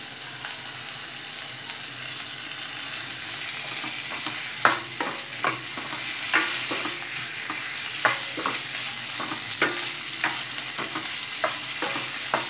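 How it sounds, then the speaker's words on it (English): Tomatoes hit translucent onions in a frying pan for a mutton curry, giving a steady close sizzle punctuated by repeated sharp scrapes and clanks of a spoon stirring against the pan. "Now I'm going ahead and adding my tomatoes"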